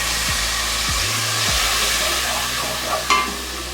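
Soaked, squeezed tamarind extract being added and stirred into a pot of lentil sambar, giving a steady close sizzle with soft scraping stirs and a small clink near the end, no talking.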